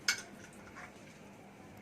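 A pot of parmigiana sauce is shaken on the stove, giving one sharp metallic clink followed by a faint rattle, close and alone.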